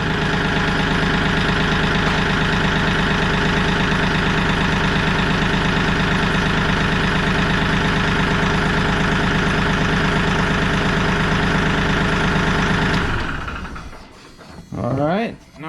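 Kioti CK3510 HST compact tractor diesel engine idling steadily and loudly for most of the stretch, then cutting off near the end, leaving a brief quieter tail.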